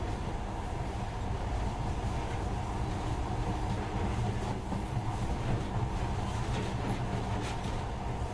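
A monorail train runs in the video game Metro Last Light, a steady, close rumble with faint rhythmic rattling that holds at an even level from start to finish.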